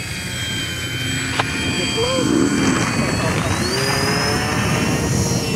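An RC Dynam Cessna 310 Grand Cruiser model airplane's electric motor drones steadily outdoors in a light breeze, its whine climbing in pitch partway through as the throttle is advanced, under constant wind noise.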